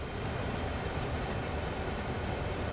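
Train running in the Train Sim World 2 video game, a steady, loud broadband rumble of a train coasting at low speed, constant throughout with no talk over it.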